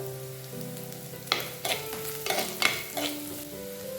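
Shallots and green chillies sautéing in a pan with ginger and garlic for a Kerala-style roasted-coconut fish curry, a steady close sizzle broken by several sharp scrapes and clinks of a spoon stirring against the pan.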